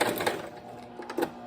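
A sewing machine runs a short zigzag stitch across a ribbon, giving a brief, close mechanical whirr with quick rhythmic clicks.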